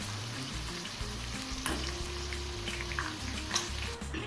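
Party snacks deep-fry until crispy in hot oil, a continuous bubbling sizzle with occasional clinks and stirring sounds, fairly close and steady, with no talk.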